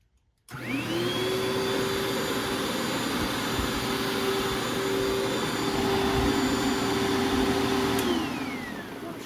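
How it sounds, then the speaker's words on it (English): A vintage Panasonic JetFlo vacuum cleaner switches on after a brief silence and runs with a loud, steady motor whine and airflow roar, then begins winding down near the end. No one speaks. "Even for such an old vacuum, the agitation is still pretty good."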